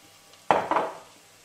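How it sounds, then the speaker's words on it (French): Uncooked rice poured into a pan of softened onions for a pumpkin risotto, giving two brief rattling, sizzling clatters close by, then quiet. "On va pouvoir rajouter maintenant le riz."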